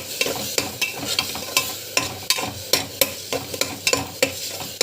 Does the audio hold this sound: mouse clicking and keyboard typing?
no